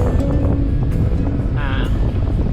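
Wind roars steadily across a sailboat on a wet, squally passage with a reefed head sail and mainsail, a constant close buffeting rush with low rumble throughout.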